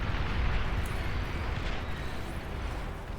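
Artillery fire in the real-time strategy game Beyond All Reason during a huge multi-team battle, heard as a dense, continuous rumble of overlapping booms and eruptions, loud and steady throughout.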